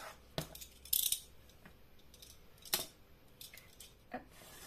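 Scissors cut paper for a small sea-themed album booklet with a few crisp, separate snips and rustles, close and fairly quiet, spaced irregularly with soft handling noise between them.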